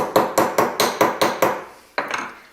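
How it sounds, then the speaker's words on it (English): A small rounded hammer strikes a metal jewelry disc on a bench block seven times in a quick steady rhythm, each hit ringing briefly, then two more blows after a short pause. "I'm just going to take a small rounded hammer, place it onto a bench block, and just hammer that part back down."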